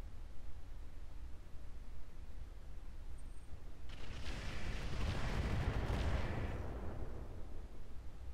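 A burst of weapon fire from mech combat in Roguetech hits a target, a loud roaring, crackling volley swelling over steady background noise, then fading after a few seconds.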